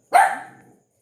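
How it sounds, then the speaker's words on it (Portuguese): A single sharp, high-pitched bark from a small dog, close by and loud, trailing off quickly with no other sound around it. "mesmo com o latido da minha cachorrinha Jade, né?"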